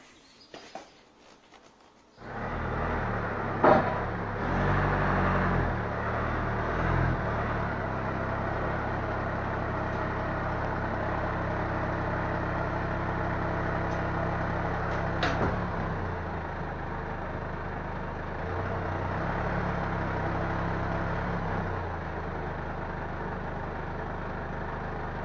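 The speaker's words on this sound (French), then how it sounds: "On va reculer la voiture." A low car is backed slowly up onto garage ramps, its engine idling with a steady low hum, gently rising and falling as it creeps rearward, with a faint click partway through.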